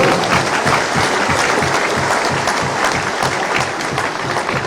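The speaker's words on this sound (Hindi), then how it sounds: "आज एक बार ताली हो जाए अपने बूथ के कार्यकर्ताओं को बजाओ" A large crowd at a BJP Vijay Sankalp Sabha election rally with Shivraj applauds loudly and continuously, a thick, even wash of many hands clapping close up without pause.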